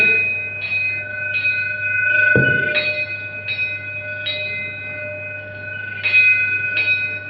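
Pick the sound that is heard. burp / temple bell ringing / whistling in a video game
temple bell ringing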